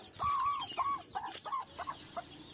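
A mother hen with a brood of chicks clucks in a run of short, varied calls, one longer drawn note first and then several quick ones, fairly close and alone without speech.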